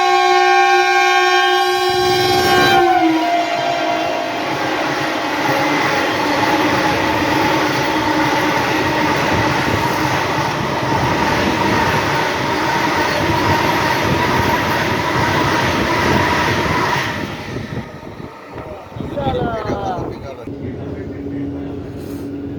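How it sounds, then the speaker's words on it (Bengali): A Howrah–Kamakhya Vande Bharat sleeper train pulls away from New Jalpaiguri Junction with a long, loud, steady rumble and sustained horn-like tones for most of the recording, then the noise drops to a quieter hum with a brief rattle near the end. "আমাদের ট্রেন তো ছেড়ে দিয়েছে, এরপরে যে স্টেশনটা আসে সেটা হচ্ছে আলুয়াবাড়ি রোড।"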